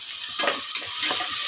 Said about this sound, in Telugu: ఇప్పుడు ఇందులో సన్నగా కట్ చేసి పెట్టుకున్న ఒక 2 ఆనియన్స్ని వేసుకొని ఫ్రై చేసుకోవాలి